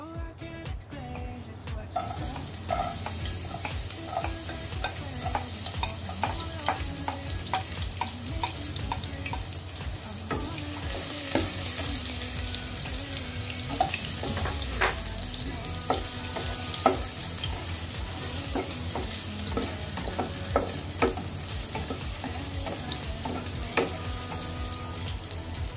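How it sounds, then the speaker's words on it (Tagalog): Garlic frying in hot cooking oil for a Filipino-style beef steak, a steady close sizzle running throughout with occasional stirring clinks and scrapes over the bubbling. "Pag mainit na ang mantika, sunod natin ang bawang."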